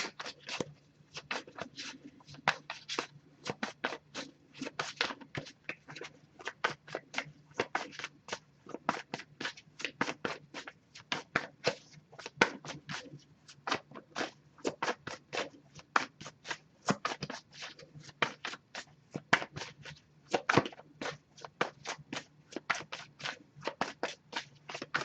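A tarot card deck is shuffled by hand at close range, a long run of crisp, papery riffles and slaps repeating in quick irregular bursts for over twenty seconds with no talking.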